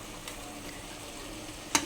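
Curry stirred in a pan in a home kitchen: faint, soft scraping and a low sizzle run steadily throughout, ending with one sharp clink near the close.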